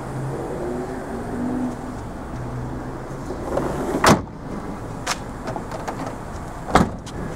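Rear fold-down tailgate of a facelifted 2010 Mitsubishi Outlander being worked, with a steady low mechanical background, a sharp latch clunk near the middle and another firm thud toward the end, plus smaller knocks between.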